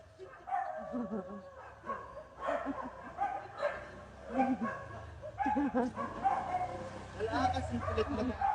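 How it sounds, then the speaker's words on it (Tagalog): Several dogs bark and yip repeatedly in short irregular bursts, some close and some farther off, with people talking and laughing over them outdoors. "Ingay ng mga aso."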